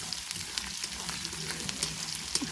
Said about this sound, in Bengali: এদিকে মাছ ভাজা হচ্ছে আর এদিকে হচ্ছে তোমার পেঁয়াজ আর রসুন তুলে দেওয়া